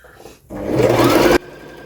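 A sewing machine stitching fabric in a short, fast burst of close, steady whirring that starts abruptly and stops just as suddenly.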